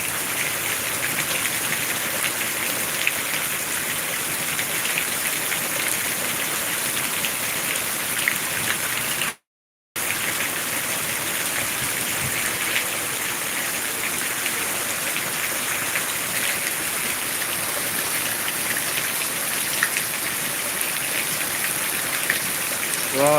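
Heavy rain pours down in Gujarat as a dense, constant roaring hiss that never lets up, broken only by a split-second dropout partway through.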